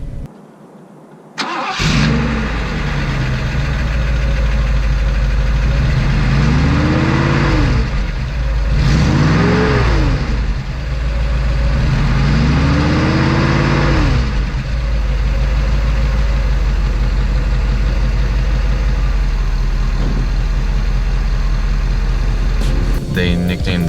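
A 1984 Mercedes-Benz 380SL engine cranks and fires after a brief quiet start in freezing weather, then settles into a steady close idle with several rising and falling revs.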